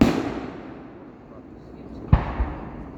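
Fireworks explode outdoors near a seaside road at sunset: the tail of one boom fades out, then after a lull a sharp crack hits, followed by a softer second burst, all somewhat distant.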